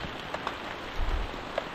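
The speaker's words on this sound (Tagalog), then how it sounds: "kasi nga po ay ang patak ng ulan ay dire-diretso" Rain falls steadily outdoors at a banana plantation, a continuous broadband hiss of drops on surfaces with a few louder individual drips and a brief low thump partway through.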